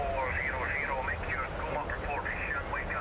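A cargo airplane in flight gives a steady, continuous engine drone and cabin rumble, heard from inside under a voice speaking throughout.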